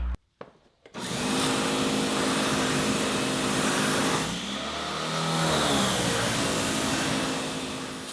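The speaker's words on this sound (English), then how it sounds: "As you see, we just rinsed the wheel." A dirty car wheel being rinsed with a pressurized water spray, a loud continuous hiss that starts abruptly after a second and holds steady with slight shifts in pitch as the spray moves across the wheel.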